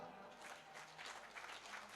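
Audience applause at a Ramayan Mahotsav religious event, a faint, steady patter of many hands clapping throughout.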